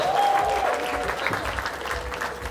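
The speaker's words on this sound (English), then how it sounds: "please a big round of applause for him" Brief audience applause at a conference, steady clapping at moderate volume with a tonal whistle-like sound over the start.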